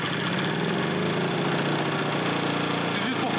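A small engine runs at a slow idle to warm up, a loud, steady, close rumble with even pulsing throughout.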